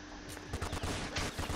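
Rapid bursts of gunfire in the video game Roblox, a dense run of close, punchy shots repeating through the moment without talk.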